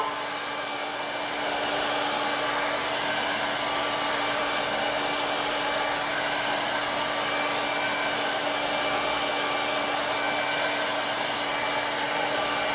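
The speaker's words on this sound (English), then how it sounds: "One more time with the hair dryer." A hair dryer blows continuously at close range, a steady loud whooshing roar with a constant motor hum, unbroken from start to finish.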